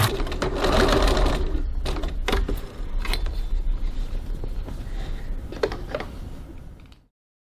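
A sewing machine bastes the lining of a crossbody bag, running in steady stitching bursts with brief pauses and mechanical clatter for about seven seconds before stopping abruptly.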